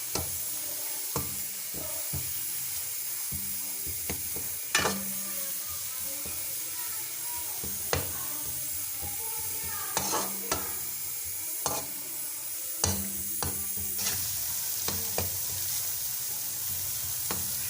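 Ginger and garlic paste fries in a pan with a constant soft sizzle and hiss, broken by the scrape and clatter of a spoon stirring it, close and moderately quiet, no one talking.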